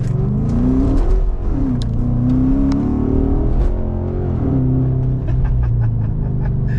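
A car engine revs loudly and repeatedly, pitch rising and falling with each burst of acceleration, close and continuous.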